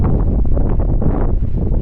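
Strong gusting wind near a lighthouse on the Aomori coast buffets the microphone in a dense, loud, low roar that surges and eases unevenly throughout.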